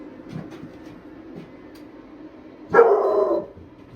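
A dog barks outdoors at a rural off-grid solar property, a single loud burst of barking standing out against quiet background noise with faint sounds earlier.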